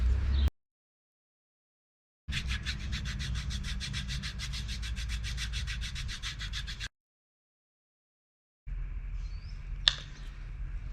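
A file smooths toenails straight across in a quiet room, with a close, steady series of rapid rasping strokes lasting about four seconds and no voices.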